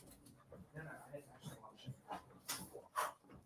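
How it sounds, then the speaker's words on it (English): Several dogs whimpering and giving short excited yips and huffs, fairly faint and off-mic, in uneven bursts under a low murmur of voices. "The dogs are going crazy."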